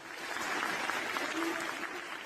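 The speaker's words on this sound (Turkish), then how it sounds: "Salondakiler alkışlıyor" An audience in a hall applauds, a steady wash of clapping that stays even and fairly loud from start to finish with no voices standing out.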